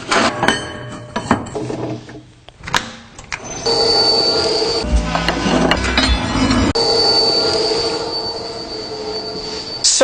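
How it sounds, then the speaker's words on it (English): A bandsaw cutting pieces from a Damascus steel billet gives a loud, high, sustained metallic squeal with a steady ringing tone, after several sharp knocks and clatters at the start. "we're going to cut them to the same size in the bandsaw"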